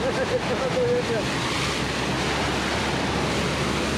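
Steady broadband rush of a flowing river fills the scene, with wind buffeting the microphone and a faint voice early on.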